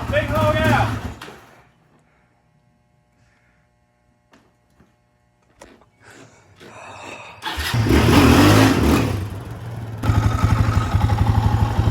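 A cheap race wheeler motorcycle engine revs up loudly near the end, rising after a quieter stretch with scattered clatter, while people talk over the start.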